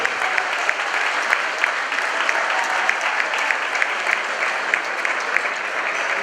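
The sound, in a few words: audience applause at museum opening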